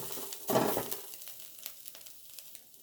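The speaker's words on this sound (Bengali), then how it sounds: "এবারে আমি এটাকে নাড়তে থাকবো, খুব বেশি নাড়বো না।" Noodle filling being stirred in a pan for stuffed potato chops, giving a short burst of stirring scrape and sizzle near the start, then faint sizzling crackle.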